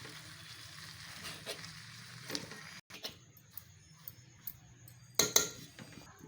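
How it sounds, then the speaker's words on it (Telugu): Fresh spinach leaves sizzle gently in hot tempering in a pan for palak curry, with scattered clicks and scrapes of a spoon stirring from the bottom and a brief pause before a sharper clatter. "ఇప్పుడు మనం ఇందులో పాలకూర వేద్దాం. బాగా అడుగు నుంచి కలుపుకోవాలండి"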